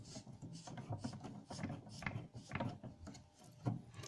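A reducer fitting is screwed onto a washing machine's water inlet, giving quiet, close clicking and ratcheting taps in an uneven rhythm of short bursts, with no talk.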